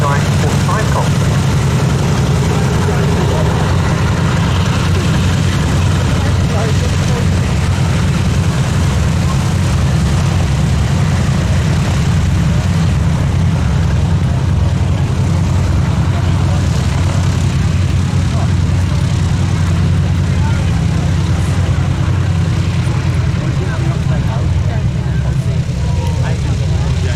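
The Boeing B-17G Flying Fortress Sally B runs its propeller engines at the Cosford Airshow, a loud continuous low droning roar that holds steady throughout, with a voice talking over it.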